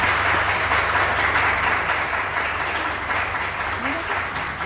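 A studio audience on a Pakistani TV morning show applauds a singer after a Saraiki song, with steady dense clapping continuing throughout, loud and close.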